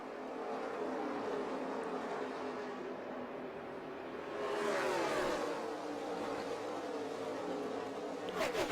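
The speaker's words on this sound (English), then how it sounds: "Denny Hamlin regains the lead on this restart" NASCAR race cars roar as they accelerate on a restart at the 2015 Coca-Cola 600. A steady engine drone swells midway with rising pitch sweeps as the pack passes, with no talking.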